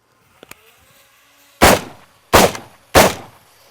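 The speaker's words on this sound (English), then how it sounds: "Let's try it with the rifle real quick." Three loud, sharp rifle shots ring out close by at an uneven pace during a test of a SureFire X400 weapon light, preceded by a couple of faint clicks.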